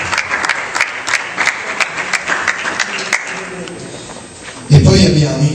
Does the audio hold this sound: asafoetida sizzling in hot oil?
no